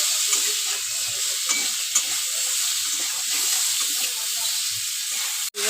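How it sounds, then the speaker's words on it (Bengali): Steady, close sizzling and stirring of food frying in a pan with turmeric and salt, a continuous hiss with soft scraping from start to finish. "দিয়ে আমি একটু ভালো করে ভাজা ভাজা করে নেব।"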